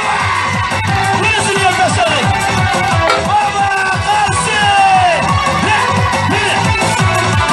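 A lively crowd cheers, shouts and whoops continuously after a one-year-old boy lifts an 8-kilo stone in a strongman feat, with children's voices and babble mixed into the loud, dense noise.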